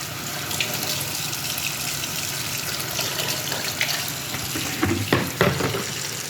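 Warm soapy water running into a bucket for washing an Infiniti FX35, a steady hissing, splashing stream with a few louder sloshes near the end, close and continuous.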